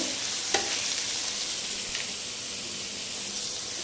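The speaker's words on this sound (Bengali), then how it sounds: "তেল গরম হয়ে আসছে পেঁয়াজ দিয়ে দিয়েছি আমি আর পেঁয়াজটা হালকা ভেজে নেবো" Onions lightly frying in hot oil in a pan, a dense, even sizzling hiss held close and steady throughout, with a couple of faint clicks near the start and no voices.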